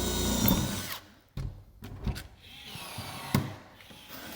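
Short bursts of a rivet tool fix flashing to an insulated metal clad panel with anthracite rivets, a few sharp mechanical pops and brief whirs with quiet gaps between.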